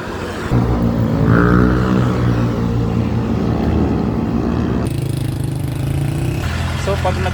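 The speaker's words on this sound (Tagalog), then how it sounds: "watch your step kasi ang bibilis ng mga motor" Fast motorcycles pass on a road beside a pedestrian bridge walkway, a loud continuous engine roar that shifts pitch as the vehicles go by, steady from near to far with no voices.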